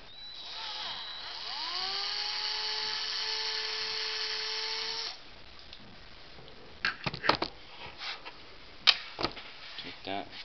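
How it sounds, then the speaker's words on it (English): A small rotary drill whines up to a high steady pitch for a few seconds while drilling out plastic from a toy Green Lantern ring, then stops, followed by scattered clicks and handling knocks. "you go take your drill and you're going to drill that the rest of the way out"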